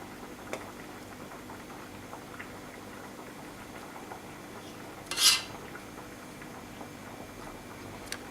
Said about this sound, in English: Now I'm going to put some sauce on top.